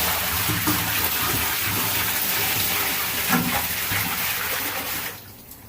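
Water pouring into a large bearded dragon enclosure during a leak test, a loud, steady rushing splash close by that cuts off abruptly near the end.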